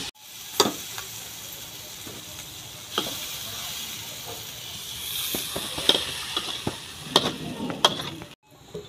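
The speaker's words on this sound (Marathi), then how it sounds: "लसूण आणि मिरची चांगली एकदा परतून घ्यायची त्याच्यामध्ये" Garlic and green chilies sizzle steadily in a hot pan, a close, continuous frying hiss broken by scattered clinks and stirring scrapes, with no speech.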